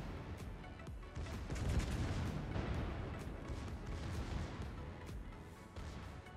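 Secondary guns on a warship in World of Warships fire in a dense, continuous barrage of rumbling booms and cracks under ongoing battle noise, fairly faint overall.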